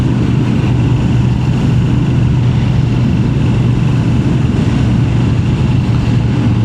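A 2025 Moto Guzzi V7 Stone's transverse V-twin engine runs steadily up close, a loud, even low throb that holds without revving for several seconds, with no talking.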